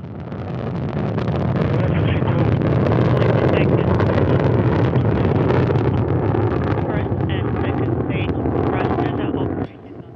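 Soyuz rocket launching to the International Space Station, its four strap-on engines and core roaring with a loud, broad, continuous rumble that holds steady throughout, then drops sharply in level just before the end.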